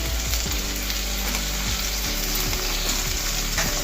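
Tomato with a quarter spoon of turmeric frying in a pan for aloo matar pulao, a steady close sizzle with repeated scraping clicks of a spoon stirring.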